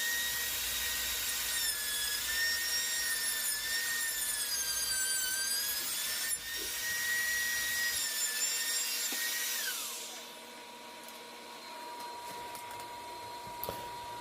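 A bearing-guided router cuts a binding channel into the edge of a wooden guitar body, a loud high whine with rising and falling pitch for about ten seconds before the motor winds down to a faint hum.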